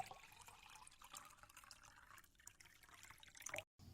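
Hot water is poured into a cup, a faint, continuous splashing trickle that runs for a few seconds before stopping abruptly.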